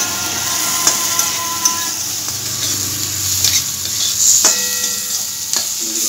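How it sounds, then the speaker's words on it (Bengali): Ground coriander, cumin and turmeric stir-fried in a pan for fish chilli, a steady loud sizzle with the spatula scraping and clinking against the metal now and then, no voices. "এরপরে আবারও আমি খুব ভালো করে কষিয়ে নিচ্ছি"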